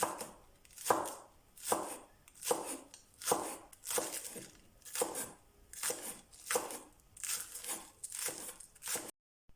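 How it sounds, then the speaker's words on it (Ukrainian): A knife finely chops green onion on a cutting board for herring canapés, about a dozen evenly spaced, crisp chopping strokes, close and clear, stopping abruptly at the end. "Дрібненько кришимо зелену цибулю."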